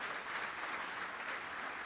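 Steady audience applause at the close of a panel discussion, a dense, even wash of clapping from a sizeable crowd lasting the whole moment, with no voices over it.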